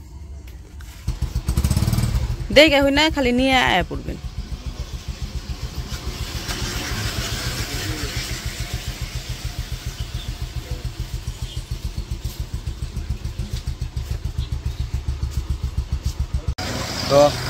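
A motorcycle engine starts up nearby and settles into a steady, rapid thumping idle that runs loud and close before cutting off near the end, with a voice speaking briefly early on.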